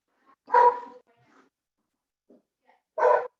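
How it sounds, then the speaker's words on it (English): Dogs bark indoors, two separate loud barks a couple of seconds apart with quiet in between, moderately close. "Those are the dogs."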